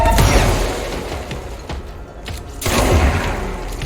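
Gunfire in a video game comes as loud, close bursts of booming shots, with a roaring burst at the start, a brief lull, then another heavy volley near the end.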